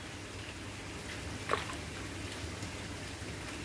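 Rain falls during a wet spell in Yogyakarta, a steady, moderate hiss of drops with one brief louder splash partway through and no talk.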